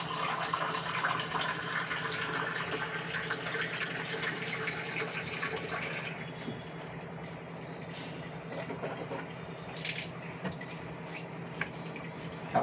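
Water is poured or run into a vessel for boiling in the morning to make tea, a steady gushing flow that is loud at first, then softens and thins with a few small clinks near the end.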